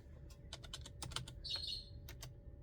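Quick, uneven keystrokes on a computer keyboard tap out in short bursts close by, over a steady low background hum, with a brief high chirp partway through.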